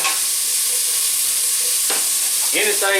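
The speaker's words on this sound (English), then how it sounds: "cooking some bacon, getting ready for breakfast" Bacon sizzling in a pan, a steady bright hiss throughout, with a couple of short clatters and scrapes near the end, close and fairly loud.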